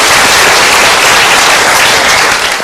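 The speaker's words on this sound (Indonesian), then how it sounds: "Kita berikan tepuk tangan dulu." Loud, dense audience applause at a talk or seminar, a continuous close roar of many hands clapping with no talking.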